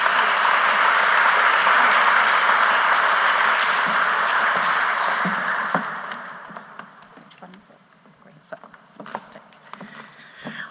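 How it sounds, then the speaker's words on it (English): Audience applause at a care awards ceremony, dense clapping from a crowd holding steady for several seconds, then thinning out to scattered claps and fading near the end. "I think that deserves a round of applause all on its own."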